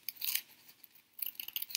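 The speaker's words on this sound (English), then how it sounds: "take some scissors and just cut in, but not all the way in, just making little slits" Scissors snip small slits into folded yellow tissue paper for a paper flower craft, giving a few light, crisp cuts in two short bursts, close and quiet.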